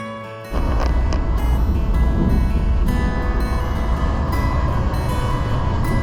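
A heavy, continuous rumble of a train arriving at a station in the dark rolls in suddenly and stays loud and steady, with rattling and roaring noise close by.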